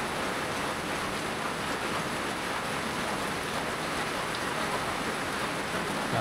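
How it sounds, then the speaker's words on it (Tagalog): Steady, dense downpour of heavy rain, a constant broadband hiss with no pauses, close and loud throughout. "after po ng napakalakas na ulan"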